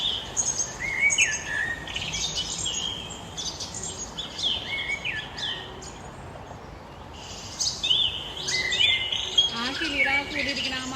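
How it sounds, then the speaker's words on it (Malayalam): Wild birds chirp and twitter at a feeder on a farm in New York, a busy layered chorus of short high calls from several birds, near and far, continuing without a break. "കിളികൾ ഫുഡ് കഴിക്കാൻ വേണ്ടിയിട്ട് വന്നതിനാണല്ലോ."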